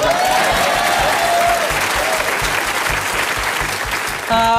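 A television quiz show studio audience bursts into loud, sustained applause, dense clapping from many hands that runs steadily and briefly swells near the end.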